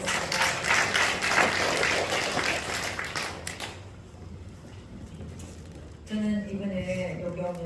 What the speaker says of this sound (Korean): 하나님의 영광의 박수 한번 해드리겠습니다.